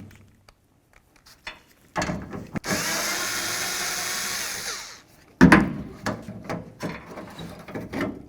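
A power tool whirs steadily for a few seconds while zipping off the liftgate handle mounting nuts on a 2002-09 Dodge Ram 1500, followed by clunks and ratcheting handling noises up close.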